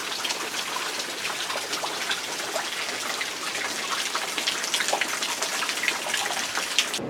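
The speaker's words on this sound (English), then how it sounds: "You see the rain coming down in the pool." Steady rain pours into a backyard pool and onto standing water in the yard, a dense, continuous patter and splash heard nearby without voices.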